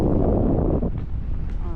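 Strong wind roars and buffets the microphone while parasailing over the sea at Boracay, a loud, continuous low rumble as a voice speaks over it.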